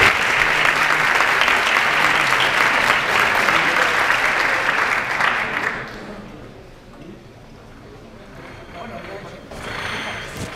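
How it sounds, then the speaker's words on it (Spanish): Audience applause at a Spanish-language talk introducing quantum computing, a dense, loud clapping wash for about six seconds that fades out, followed by quiet room noise and a brief voice. "un gran aplauso para ella"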